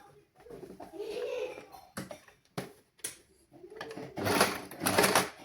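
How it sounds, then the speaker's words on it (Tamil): A sewing machine stitches a joined fabric seam during a basic tailoring lesson, running in short bursts of whirring with pauses between them, the longest run at the end, fairly close and moderately loud. "இந்த ஜாயின் பண்ணுற இந்த பகுதியை வந்து நான் தைக்க போகிறேன்"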